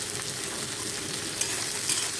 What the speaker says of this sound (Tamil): அது வெங்காயம் கொஞ்சம் வதங்கும்